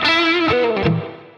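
Heavily distorted electric guitar through a distortion effect rather than a cranked amp, a sustained buzzing chord with bright ringing overtones that shifts pitch twice, loud and alone, then fades.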